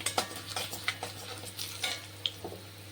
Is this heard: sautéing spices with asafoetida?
yes